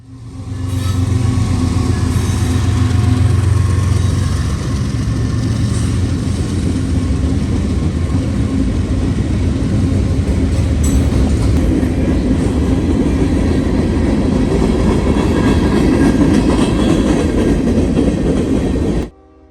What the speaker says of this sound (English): M350 with two YN3 GEs, including a Dash 8 second, heads northbound through the night in Troy, Ohio.